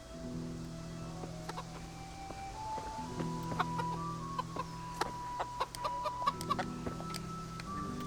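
Chicken clucking in the medieval video game Kingdom Come Deliverance, scattered soft clucks over a steady ambient drone and layered music-like tones, fairly quiet throughout.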